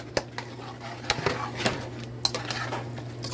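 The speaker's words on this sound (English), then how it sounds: "I'm gonna add the onions to it." A spoon clinks and scrapes against a pot as onions are stirred into a Guinean okra stew, with several sharp metallic knocks over a low steady hum.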